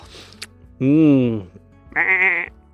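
Two drawn-out sheep bleats, the second slightly higher and brighter, loud and close, sounding within a children's animal story read aloud.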